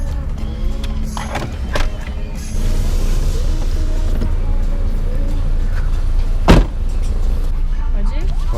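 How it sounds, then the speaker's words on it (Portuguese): Rear side windows of a car being lowered while driving on a road at around 80 km/h, with steady engine and road rumble that swells into a louder, continuous wind rush once they open, plus a brief thump partway through. "a gente vai abrir as janelas de trás"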